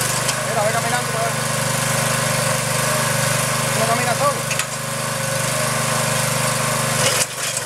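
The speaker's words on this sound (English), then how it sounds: "Turn the engine on." A small engine runs continuously at a steady idle-like drone, loud and close throughout, with a brief clatter near the end and people speaking over it.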